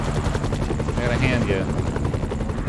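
Helicopters in the PC game Iron Man roar with a steady rotor thrum and engine whine, loud and continuous while a player talks over the top.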